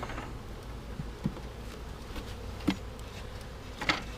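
Honeybees from a package colony buzz faintly and steadily around a hive being set up with frames, with a few soft taps and knocks from the equipment over the hum.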